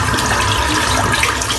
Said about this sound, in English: Just giving the brush a rinse out.